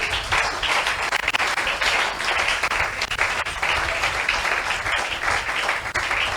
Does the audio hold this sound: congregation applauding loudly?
yes